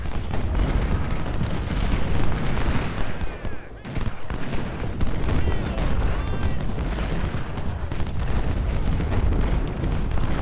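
Civil War artillery fire from 20-pounder and 12-pounder cannons in Ultimate General: Civil War at the Battle of Malvern Hill, a continuous loud barrage of booming shots and rattling gunfire, with some talk underneath.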